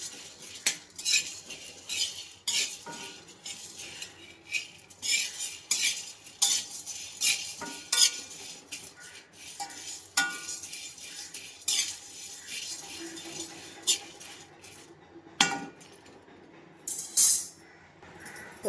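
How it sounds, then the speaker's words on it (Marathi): Chana dal dry-roasting in a pan for chakli flour, with repeated scraping and clinking of a metal spoon against the pan in uneven bursts, close and fairly loud, without talk. "इथे आपण चण्याची डाळ टाकलेली आहे त्या चण्याच्या डाळीतून सुद्धा आपण असंच दोन ते तीन मिनटं फक्त भाजून घेऊया"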